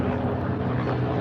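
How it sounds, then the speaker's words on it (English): A big helicopter passes overhead, its low, steady rotor rumble filling the moment loudly and continuously with no talk over it. "Ooh, I hear a helicopter."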